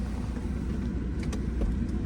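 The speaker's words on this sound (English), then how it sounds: "I think I'm going to be turning the car off now." A car idles in freezing cold, its engine giving a low, steady rumble with faint clicks over the top, heard from inside the vehicle.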